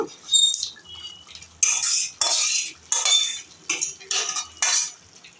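Tempering poured into chicken curry and stirred with a spoon against a pot, a series of distinct scraping, clinking strokes in a quick irregular rhythm, close and fairly loud, with no talk.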